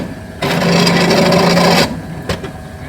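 A small dentist-style drill whines steadily for about a second and a half while countersinking holes for rivets on a handmade custom bike frame, then stops, followed by a brief second burst.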